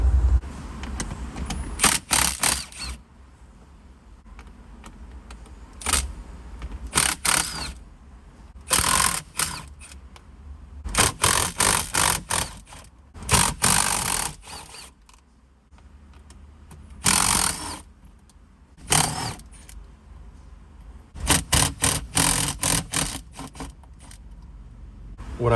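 10mm bolts come out inside a 1995-2004 Toyota Tacoma cabin, with repeated bursts of ratcheting and metallic clicking separated by quieter gaps, close and fairly loud.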